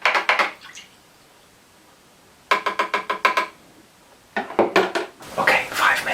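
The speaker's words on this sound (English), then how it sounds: "And we stir a bit more." Caffenol coffee-based film developer is stirred in a container, giving close clinking, rattling strokes in three separate bursts with quiet gaps between them.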